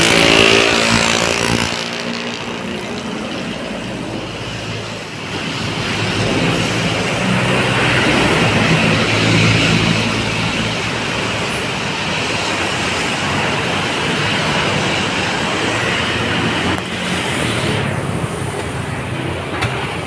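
A pile driver hammers long piles into the ground at a construction site, a loud continuous mechanical roar that fills the whole stretch with a dense, pounding engine drone.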